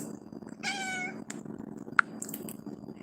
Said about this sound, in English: Kitty says hi.